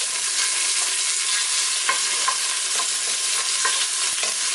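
Food frying in olive oil while being stirred for a beef bourguignon, a loud steady sizzle with a series of light scraping strokes from the stirring utensil, close and without talk.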